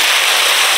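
Potatoes dropped into hot oil left from frying fish give a loud, bright, crackling sizzle that runs without a break, close and alone.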